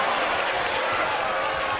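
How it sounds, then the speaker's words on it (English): A WWE 2K22 wrestling arena crowd on its feet, applauding and cheering in a dense, loud, continuous roar with no gaps. "this crowd is on their feet in full appreciation"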